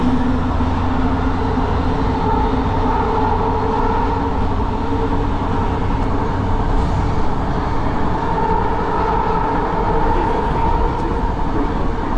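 A JFK AirTrain runs on its rails toward Jamaica Station, a steady broadband rumble and rattle heard from inside the car that holds evenly for the whole stretch with no talk.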